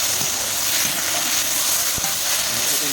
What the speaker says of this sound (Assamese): এনেকৈ অকণমান তেল দিব আৰু এই নিমখ হালধি দি ভাজি দিব